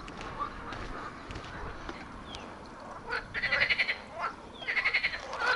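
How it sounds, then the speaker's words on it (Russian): Frogs croak in rhythmic bursts near a small stream in Solnechnogorskoye, Crimea, the chorus rising in two louder clusters over a low background of flowing water and ambient noise. "вот эта речушечка, тут лягушки квакают."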